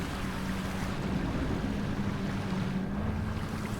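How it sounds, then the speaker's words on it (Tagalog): A boat crosses strong ocean waves in the GTA V video game, giving a steady, loud wash of water and engine rumble with no break. "Ang lakas naman ng alon, par."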